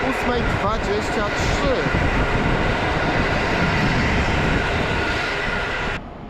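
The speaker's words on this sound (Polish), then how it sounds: "Punktualnie jedzie Berlin-Warszawa Ekspres z Berlina i ponownie mamy Husarza, tym razem EU44" A Berlin-Warsaw Express train hauled by an EU44 Husarz electric locomotive, number EU44 001, passes close by in a loud, steady rush of rolling wheels and rail noise that cuts off sharply near the end, with a voice speaking over it.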